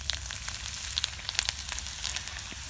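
Garlic and ginger fry in hot oil in a kadhai with a steady crackling sizzle and scattered small pops, close and moderately loud.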